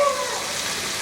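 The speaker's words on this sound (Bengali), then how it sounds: "নিয়ে আমি ক্যাপসিকামগুলো দিয়ে দিচ্ছি এর মধ্যে।" Capsicums hit a hot pan with soy sauce while making beef chowmein, giving a close, loud burst of sizzling that holds steady for a moment.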